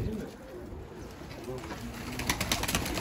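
Pigeons coo on a rooftop with many birds around, the Mardin breed among them, giving soft repeated coos against outdoor noise as a person talks nearby.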